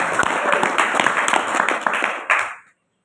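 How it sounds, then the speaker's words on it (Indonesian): An indoor audience at a motivational talk claps enthusiastically, a dense rattle of hands that swells, gives one last burst near the end and then cuts off into silence. "beri aplaus yang sangat meriah"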